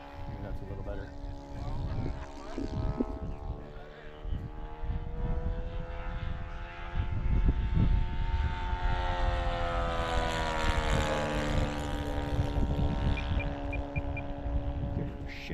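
Quarter-scale RC Piper Cub model plane with a 160 Gemini engine flying in gusty wind, its steady propeller drone rising and falling in pitch as it passes, with people talking nearby over the engine.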